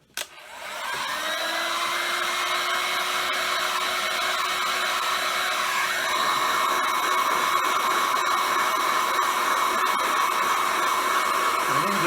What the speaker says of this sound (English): So first of all, heat gun.